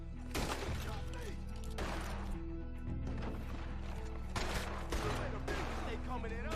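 Gunfire in Red Dead Redemption 2 crackles repeatedly through dense game music and ambience, with sharp bursts spread across the scene rather than a single isolated shot.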